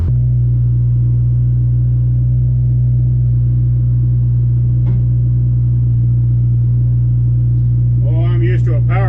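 An excavator's diesel engine fires up and settles into a loud, steady idle while warming, a constant low droning hum with a brief clank midway and a voice speaking briefly near the end.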